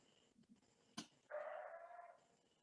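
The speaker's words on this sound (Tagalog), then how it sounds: "I-mute mo yung mga aso dyan, Dong." A dog gives a single sharp bark and then a drawn-out whining yelp, faint and somewhat distant against a quiet room background.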